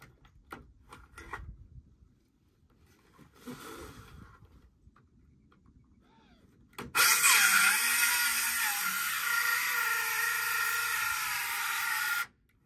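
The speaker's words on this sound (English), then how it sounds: "Damn, Ryobi, I need a better saw." A Ryobi power saw cuts wood, with scattered handling knocks and rustles first, then a loud, sustained high-pitched whine that starts abruptly, runs steadily for several seconds and stops sharply. No voices are heard.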